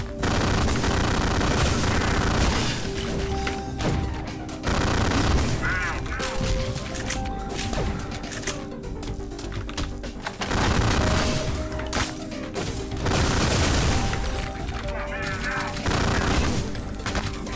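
Sustained gunfire in the first-person shooter Ion Fury: repeated bursts of shots and heavy booms roll on throughout, loud and dense, with someone talking at intervals over the shooting.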